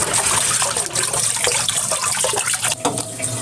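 Running water splashes and sloshes steadily while rui fish is rinsed in a basin, a loud, close, continuous wash with brief splashing bursts.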